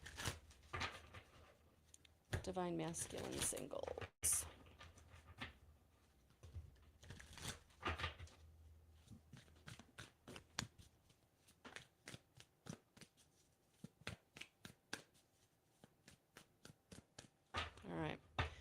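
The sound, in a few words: shuffling tarot cards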